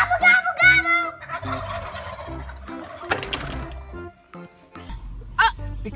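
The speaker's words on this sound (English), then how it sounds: "Give me a gobble, gobble, gobble." Turkeys gobbling in a rapid warbling burst, then more scattered gobbles and clucks, with people's voices mixed in under the calls.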